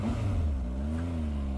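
A 2019 Triumph Speed Triple RS motorcycle engine revs up close, a deep, bassy roar that swells and holds steady with a slightly rising pitch, with no one talking.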